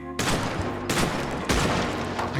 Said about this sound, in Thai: ปืนมันก็ดีนะครับผมถ้าเอามายิงกับพวกตัวธรรมดา